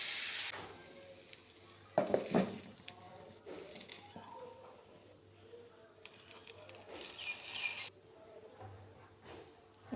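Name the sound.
cooking thin batter sheets in a pan for chicken rolls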